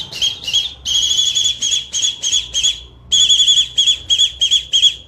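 A person imitates a squirrel's call with a series of rapid, high-pitched chirping squeaks in two bursts separated by a brief pause, loud and close.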